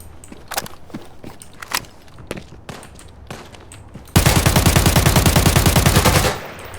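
In the tactical shooter video game Arena Breakout Infinite, scattered single shots and footsteps give way to a loud, sustained burst of automatic rifle fire that then cuts off, with no voices.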